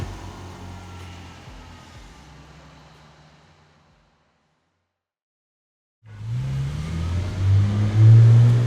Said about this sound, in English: Then he put the car in drive and followed the Jeep.